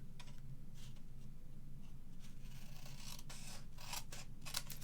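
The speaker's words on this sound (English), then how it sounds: "Now, trim them off." Scissors trim small pieces off in quick, crisp snips, faint and close, in a quiet room with several cuts clustered near the end.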